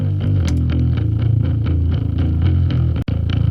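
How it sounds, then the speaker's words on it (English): Bass guitar played through a bass chorus effect plugin, switched on, gives a thick, shimmering, slightly distorted riff of steady repeated notes, loud and continuous, with a brief dropout near the end. "All right, so this is the bass chorus."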